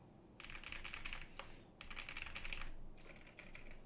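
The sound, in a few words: typing on custom keyboard with silent switches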